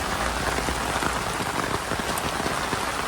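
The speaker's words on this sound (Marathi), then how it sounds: "लई जोरात पाऊस आहे बघा" Heavy storm rain pours down steadily, a dense, loud hiss of drops drumming on surfaces with no pauses and no voices.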